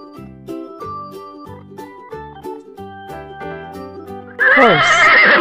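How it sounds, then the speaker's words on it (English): A loud horse whinny breaks in near the end after a stretch of light, plinking melodic music, with the neigh rising and falling over the backing tune. "Horse."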